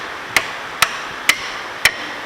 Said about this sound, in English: Hammer it off.